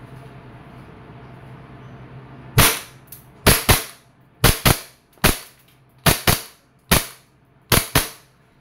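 An E&C airsoft Glock 19X Gen 5 pistol fires about a dozen sharp, close pops in quick pairs and singles after a few quiet seconds, with no talking.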